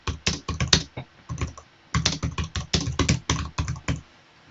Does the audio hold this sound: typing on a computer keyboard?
yes